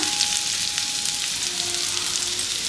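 Poha mixture with turmeric and salt being stirred in a hot pan, giving a loud, continuous close-up sizzle with a soft scraping hum underneath and no talking.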